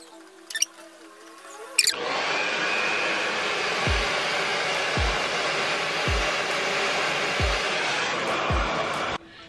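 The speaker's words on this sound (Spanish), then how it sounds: "Yo normalmente me seco el pelo un poco por encima." Hair dryer drying a person's hair: a couple of handling clicks, then the dryer switches on into a loud, steady close-up blowing roar for about seven seconds with faint periodic low thumps, then cuts off.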